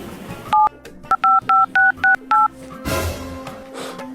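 Phone keypad dialing tones while placing a call, a rapid series of about eight short beeps at a steady rhythm, loud and close, followed by softer background noise.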